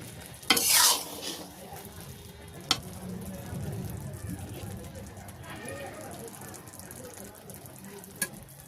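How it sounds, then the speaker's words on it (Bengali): Meat pieces go one by one into a hot pot, setting off a burst of loud sizzling followed by a softer continuous fry, with a few sharp utensil clinks and stirring scrapes, close by, and a faint voice in the background. "আমি মাংসটা দিয়ে দিব আস্তে আস্তে এক এক পিস করে দিচ্ছি"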